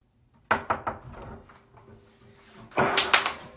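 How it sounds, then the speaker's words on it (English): A door opens as someone walks into the room, with a few knocking thuds followed by a clattering, scraping handle and door movement, fairly close. "You come through the door."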